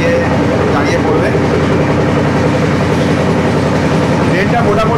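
Puri Kamakhya Express train rolling along the rails, a loud steady rumble with rhythmic wheel clatter throughout, heard from on board the carriage.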